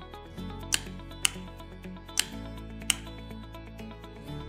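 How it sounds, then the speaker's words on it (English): A healthy start solenoid in a hydraulic power unit clicks with its bus bar connection removed, four sharp separate clicks over a steady mechanical hum. "The clicking noise indicates the mechanical switching mechanism is freely moving as intended."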